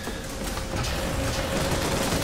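Loud, continuous gunfire from the video game BioShock Infinite, a dense rattling barrage of rapid shots that fills the whole stretch without a pause.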